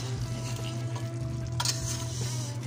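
Chicken karahi for Peshawari charsi karahi sizzling hard in a pan while being stirred, a loud continuous fry with scraping strokes, close up and with no voices.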